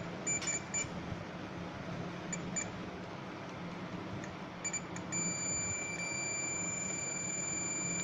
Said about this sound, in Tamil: ப்ளஸ் அண்ட் மைனஸை வந்து டச் பண்ணும்போது பீப் சவுண்டு கேட்கும்